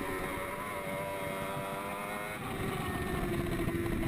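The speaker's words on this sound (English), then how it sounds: "Welsh on the number 7 machine, the Suzuki GSXR 1000 that we mentioned" Suzuki GSX-R 1000 superbikes racing in a 2013 Mopar Pro Superbike round at Canadian Tire Motorsport Park: a fairly faint, continuous, high-revving engine drone with a whining tone, heard from a distance with no talking.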